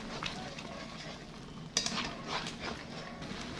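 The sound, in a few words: sautéed vegetables dropped into pan with pancit canton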